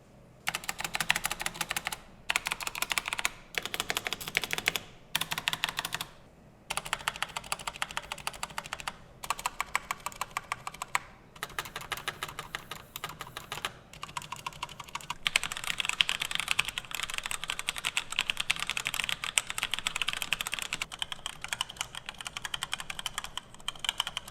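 Quiet, steady typing on a Razer Pro Type Ultra keyboard with low-noise yellow switches, with soft, rapid key clicks in close-up bursts separated by short pauses, and no voices.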